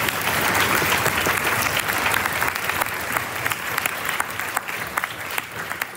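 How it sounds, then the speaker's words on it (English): A crowd applauds both teams at the final of a Japanese national high school parliamentary debate tournament, with loud, continuous clapping that holds steady for about six seconds and eases only slightly toward the end. "Big clap to both teams."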